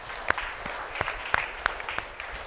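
A church congregation at a special novena mass claps to welcome guests, a soft, scattered patter of applause with a few sharper claps standing out from the room's murmur.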